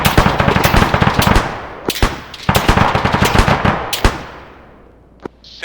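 Machine gun fire during a mad minute firing drill in squad training, with long rapid bursts broken by brief pauses and a few isolated shots, loud and close, and no talk over it.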